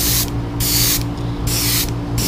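Aerosol spray paint hisses in three bursts onto a Heddon Super Spook topwater fishing lure being repainted, each bursts loud and close with short gaps of quieter background hum between them.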